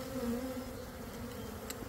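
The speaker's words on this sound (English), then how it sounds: "I'm going to dump the bees in with the new hive." A mass of honey bees being dumped into a new hive gives off a steady, droning buzz that holds evenly throughout, with no talking over it.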